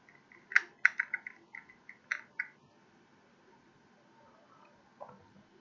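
Flexible liquid-cooling tubing for a CPU water loop is cut slowly, giving a quick run of small, crisp snipping clicks close by, then a pause and one last soft click.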